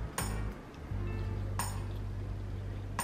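Metal cutlery clinking against a plate while someone eats cut-up steak: three sharp, bright clinks spaced about a second and a half apart over a low background hum.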